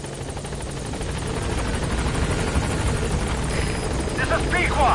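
The Pequod transport helicopter from Metal Gear Solid 5 approaches a landing zone at dusk, a steady rotor thrum and engine whine building slightly in loudness, with faint game effects near the end.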